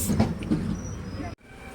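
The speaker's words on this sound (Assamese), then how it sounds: "এতিয়া ট্ৰেইন চলি গ'ল" A train on the Boko to Guwahati line pulling away, a low rumbling drone heard from on board under a voice, cutting out briefly before a quieter steady hum resumes.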